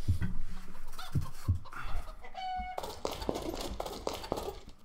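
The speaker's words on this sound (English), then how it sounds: "The birds making all their noises and everything." Chickens cluck in a snowy area of the video game Arx Fatalis, with several short clucks near the start and then a busier stretch of overlapping bird calls and game ambience.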